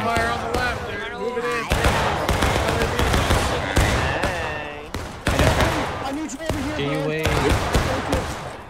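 Airsoft gunfire from the left in a woodland game: rapid sharp clacking bursts and single shots, fairly close, repeating throughout while players shout and talk over them.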